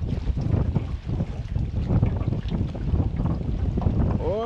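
Wind roars across a lake in Chambers County, Alabama, around a fishing boat, a loud, steady rush that buffets close to the listener throughout with no break.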